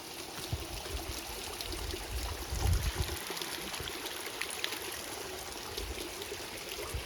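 Rainwater streaming over a mossy rock trail at Visapur fort during the monsoon, a steady close trickle and gurgle of flowing water with a few heavier splashy pulses and no talk.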